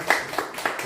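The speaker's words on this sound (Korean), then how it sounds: "박수 한번 부탁드리겠습니다" Scattered hand claps from a church congregation, a few distinct claps spaced out across a brief moment, close and moderately loud against a quiet room.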